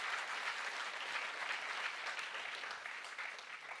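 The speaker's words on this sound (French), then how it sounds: "On peut applaudir" A crowd applauds during a conversation with footballer Edouard Mendy, a steady, thick patter of many hands that stays faint and distant and eases off a little at the end.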